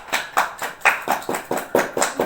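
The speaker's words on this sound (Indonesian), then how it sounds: "silahkan berikan aplaus kepada Jenny" Students in a classroom clapping for a classmate named Jenny, a small group giving a light, steady round of applause with a regular rhythm, fairly soft and with no talking.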